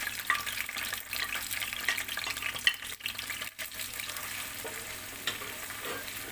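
Garlic sizzles steadily in hot olive oil for a chili garlic sauce, a dense close frying hiss with occasional stirring scrapes running throughout.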